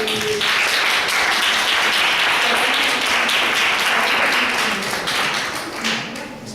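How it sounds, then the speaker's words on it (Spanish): An audience applauds a speaker being introduced at a Pagan Day talk, giving loud, dense clapping that sustains for several seconds and then tapers off slightly toward the end. "Un aplauso para él, por favor."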